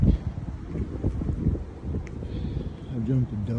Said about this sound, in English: It's a little windy this morning, I'm sure you can hear it.